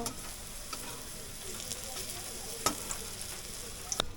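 Food frying in a pan on a gas stove, a soft continuous sizzle with a few sharp utensil clicks near the end, quiet and close, with no voices.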